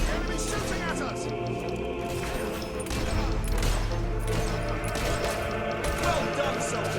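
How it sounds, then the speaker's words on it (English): Enemy gunfire in the fantasy video game Fable 3, rapid crackling volleys of shots mixed with game music and battle clamour, continuous throughout, with voices shouting over it. "Enemy shooting at us!"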